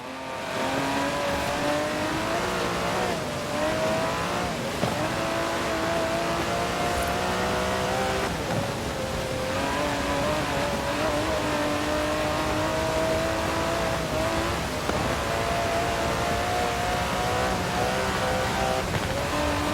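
Aston Martin DB11 with a 5.2-litre twin-turbo V12 in Forza Horizon 4, droning loud and steady throughout, its pitch rising and falling through gear changes with brief tire squeals, heard alone.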